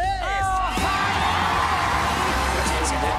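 Crowd cheering and whooping at Britain's Got Talent, a steady roar of an audience with shouts and whoops rising over it, following a man's brief speech at the start.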